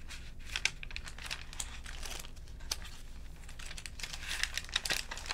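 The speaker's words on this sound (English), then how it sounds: "the sounds of the paper" Dry pages of an A5 planner crinkle and rustle, with soft irregular crackles and page movements close up, steady and fairly quiet with no talking.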